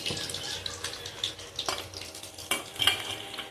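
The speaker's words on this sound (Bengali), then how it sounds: "আমি এইভাবে হালকা হালকা করে মাছগুলোকে সব ভেজে নিয়েছি" Rohu fish pieces shallow-frying lightly in oil, giving a close, steady hiss with occasional clatters as pieces are lifted from the pan.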